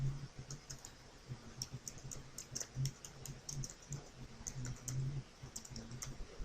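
Keys clatter steadily on a computer keyboard, a quiet, close run of irregular taps and clicks with brief pauses between bursts.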